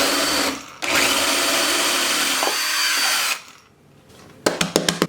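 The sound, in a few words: power drill drilling hole in board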